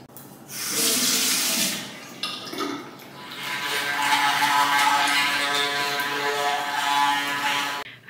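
A shower runs water steadily in an apartment bathroom, a loud continuous hiss with a brief break near the start and no talking.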